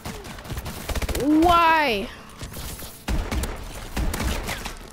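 Gunfire in Call of Duty: Advanced Warfare, rapid automatic bursts, moderately loud, with someone talking and exclaiming over the shooting.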